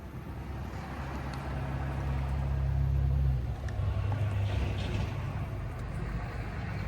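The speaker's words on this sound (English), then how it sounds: "You have to excuse the noise, friends. We are outside and we have traffic." Road traffic rumbles outdoors, a steady low drone of vehicles with a heavier engine swelling past midway.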